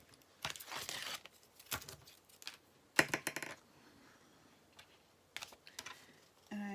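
A tape cover being peeled off a wallet journal, with short crinkling, tearing bursts at irregular intervals between quiet gaps, close and soft.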